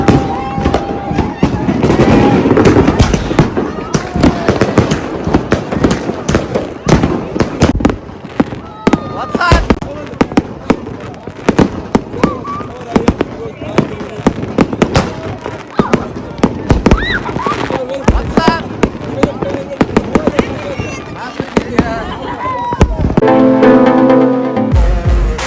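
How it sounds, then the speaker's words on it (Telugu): New Year fireworks and firecrackers burst at the Gudauri ski resort in Georgia: loud, repeated sharp bangs and crackles over a long stretch, with people talking and cheering amid the blasts. "చూడండి మొత్తం అంతా క్రాకర్స్ ఫుల్ లైటింగ్స్తో ఉన్నాయన్నమాట"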